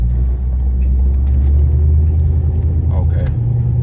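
Engine on an older carbureted car with a float problem that makes it bog, pulled hard through first gear and shifted out; a loud, steady low rumble holds throughout, with a voice talking over it.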